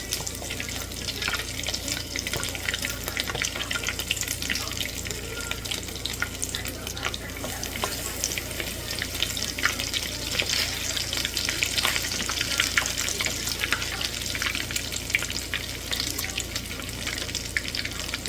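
Battered chili rellenos fry in hot oil in a good-sized skillet, giving a steady, continuous crackling sizzle throughout with no talk.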